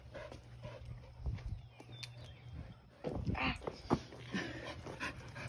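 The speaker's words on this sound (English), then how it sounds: "Jeez, dogs." Dogs on a small farm pant and whimper close by in short, uneven bursts, with low steady hum underneath and brief human voice sounds mixed in.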